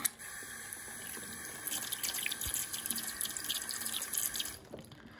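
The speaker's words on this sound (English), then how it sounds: "let's give you a close-up flush like this." A mini 3D-printed Kohler Dexter urinal model flushes, a thin close trickle and gurgle of running water lasting a few seconds before cutting off abruptly.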